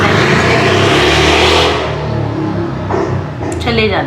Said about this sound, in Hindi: ये जो भी आपने देखा गाड़ी किस तरीके से गई, ज़ोर से आवाज़ करती हुई